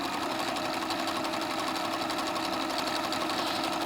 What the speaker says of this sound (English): And now we can sew a row of hearts.